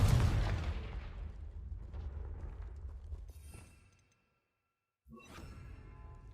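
A Confringo blast spell cast in Hogwarts Legacy erupts in a loud, booming burst that rolls off and fades into silence, then a second sharp blast hits near the end.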